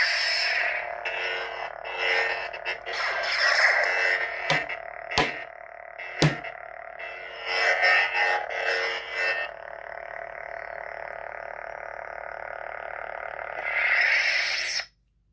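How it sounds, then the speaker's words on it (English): A Saberspro Talon lightsaber gives a steady electronic hum with occasional sharp swooshing bursts and crackles, fairly loud and continuous, ending abruptly. "Rey in Rise of Skywalker, Number 1, which is just its original sound font"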